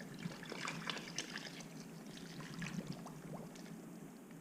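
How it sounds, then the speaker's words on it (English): Warm water pours and trickles steadily into a container of sugar for bee feed, a soft continuous splashing at close range with no talking. "Now we're going to dump the warm water in."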